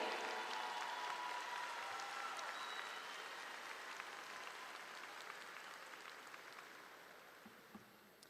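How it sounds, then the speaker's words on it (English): Audience applause at the Almeta Crawford High School Class of 2026 graduation ceremony, a broad, even patter of many hands heard from a distance, sustained for several seconds and gradually fading, with no voices over it. "If we could please give her another applause."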